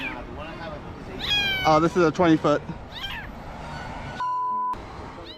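A cat stuck high up, out of reach of a ladder, lets out a run of loud, drawn-out meows in close succession while people talk around it, followed by a brief steady electronic tone.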